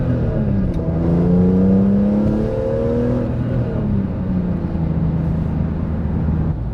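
A BMW E46 M3 with the SMG transmission, untuned, revs hard and steadily climbs in pitch, then drops briefly as it upshifts before pulling again, loud and close with no talking.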